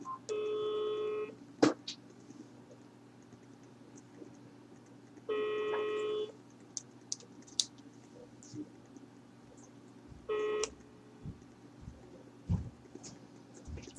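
A phone line rings back three times at even intervals on speakerphone, each ring about a second long, with quiet room noise between and no talk.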